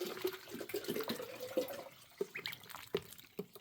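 Water pours into a small plastic duck waterer, a steady running splash for the first two seconds, then quieter drips and sloshes with a few light knocks.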